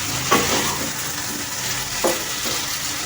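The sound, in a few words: stirring curry with poppy seed paste in a pan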